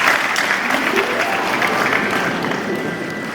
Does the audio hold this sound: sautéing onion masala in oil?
no